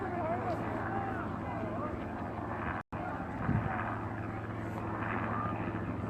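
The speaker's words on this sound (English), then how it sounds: "being videoed above right now by a helicopter" A helicopter circles overhead at a Standing Rock protest, a low steady rotor drone heard throughout beneath ongoing talk, with a brief dropout partway through.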